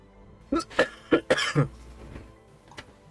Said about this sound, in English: I just had to cough and mute.